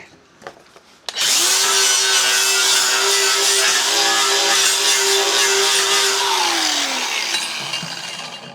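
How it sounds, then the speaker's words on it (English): A yellow DeWalt brushless angle grinder used as a cutoff tool on a steel plate spins up sharply after a brief quiet moment, holding a loud, steady high whine before winding down near the end. "I got one of the new brushless grinders, and I've been using that for my cutoff tool."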